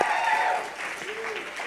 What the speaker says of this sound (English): Could we give a round of applause?